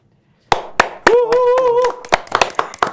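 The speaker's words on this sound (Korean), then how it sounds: "괜히 박수를 한번 시작해 봤습니다" A single person claps, a few sharp slaps and then a brief quick run of claps, in a studio setting. A sustained voice tone overlaps the middle.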